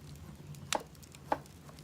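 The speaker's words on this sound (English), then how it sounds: "So I'm just gonna slice our ginger." A knife slicing fresh ginger on a cutting board: two crisp, separate cuts about half a second apart, close and fairly faint over a quiet kitchen background.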